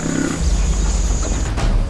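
Lions roaring in the wild on an African plain where buffalo herds gather, one deep, close, loud roar filling the moment with a low rumbling grunt beneath it.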